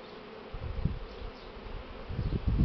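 Honey bees buzz around a swarm at a hive landing board, a close, continuous low drone that swells and fades as insects pass near, with no talking.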